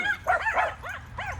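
Several puppies yip and bark in quick overlapping bursts, high-pitched and close, with whimpering rises between them at a home during chamomile harvesting.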